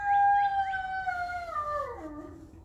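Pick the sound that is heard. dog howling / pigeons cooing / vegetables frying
dog howling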